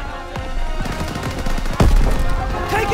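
Machine gun fire in Call of Duty WWII, rapid bursts of gunshots rattling near and loud, with a heavier blast midway and continuous battle noise around it.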